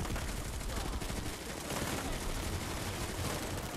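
Dense, continuous automatic gunfire from the Planetside 2 shooter fills the whole stretch at a steady loud level, with rapid overlapping shots and no clear pauses.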